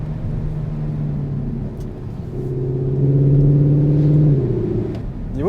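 A Cupra Leon ST hybrid estate accelerates hard in Cupra mode, its engine note climbing in a smooth, steady rising drone that swells louder from inside the car before easing off, with no talking.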